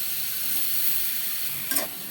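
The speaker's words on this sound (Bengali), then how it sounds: "এখন বেগুন আর আলু দিয়ে দিলাম, দিয়ে ভালোভাবে কষাতে হবে।" Eggplant and potato sautéing in oil in a pan, a steady soft sizzle and hiss throughout with a brief stirring scrape near the end.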